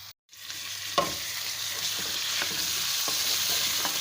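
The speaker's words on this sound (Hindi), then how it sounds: "बस अभी हम इसमें शामिल करते हैं चिकन, साथ साथ उसको भी हम भूनते जाएंगे।" Chicken pieces frying in a pan for chicken do pyaza, a steady close hiss of sizzling oil after a brief silent gap, with occasional clinks of stirring.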